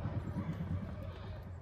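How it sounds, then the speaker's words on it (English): Horses nearby whinnying and shifting around on a farm during a truck fender-well trimming job, a restless low rumble of movement with a few brief calls over a steady background. "Horses are being crazy."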